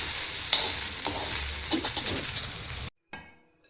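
A pan of broad beans stir-frying in oil hisses steadily with spatula scrapes and stirring taps, then cuts off abruptly into silence followed by a brief faint crackle.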